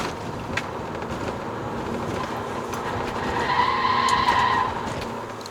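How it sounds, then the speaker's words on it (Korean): Tire noise from a Citroën Grand C4 Picasso 2.0 MPV while cornering: a steady rolling roar swells into a squealing, skidding whine near the end, with engine drone underneath. "타이어가 확실히 소음은 좀 크지만 이 코너 돌 때"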